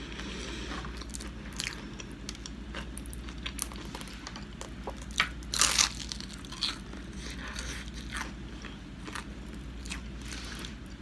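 Crunchy Jollibee fried chicken is bitten and chewed up close, with repeated crisp crunches and one louder crackling bite midway over a low steady background hum.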